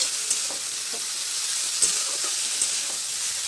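Grated, washed radish fries in a pan with a steady, dense sizzle and hiss, with a few faint clicks of stirring and no talk.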